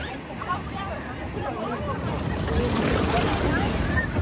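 Strong sea waves roll in at Murudeshwar beach in a continuous near surf wash with gusty wind buffeting the microphone, and a voice talks faintly beneath.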